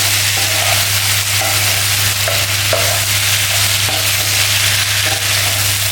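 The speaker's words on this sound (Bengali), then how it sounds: "এবার আমি আলু আর টমেটোটা দিয়ে দিচ্ছি। এবার আমরা আরও কিছুক্ষণ এইভাবে ঢাকা খোলা রেখে কষিয়ে নেব।" Potatoes and tomatoes sizzle in curry masala in an open pan, a steady loud frying hiss broken by occasional stirring scrapes at irregular intervals, with no voices.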